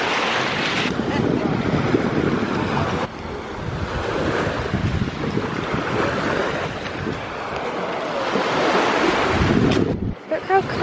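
Steady wind buffets the microphone while surf rolls in along a seaside beach on Rhodes, a continuous loud roar of wind and breaking waves with no speech.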